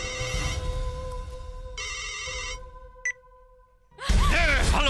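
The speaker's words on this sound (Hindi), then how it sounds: "फोन लगा के दे दे आशी के" A telephone ringtone plays in bursts of electronic tones with a brief pause and a short blip, then gives way to louder voices at the end.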